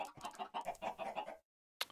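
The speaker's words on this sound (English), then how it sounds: "Should kill some of those chickens, I reckon." Chickens clucking in the Minecraft video game, a quick run of choppy clucks followed by a short pause and one more brief squawk, close and alone without any speech.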